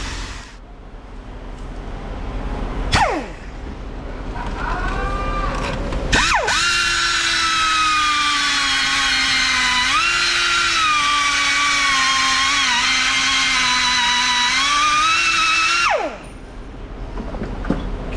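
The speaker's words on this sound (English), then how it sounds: "the bolt is still too long, so I need to shorten it." A power tool cuts through a bolt to shorten it, a loud sustained whine with a steady pitched tone lasting about ten seconds, preceded by brief spin-up bursts and ending abruptly.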